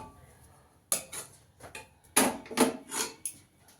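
Cooked semolina mixture scraped from the pan onto a plate, heard as a series of close, distinct spoon-on-metal clinks and scrapes arriving in irregular clusters against a quiet background.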